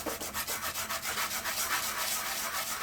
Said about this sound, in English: we'll hit it with a little sandpaper first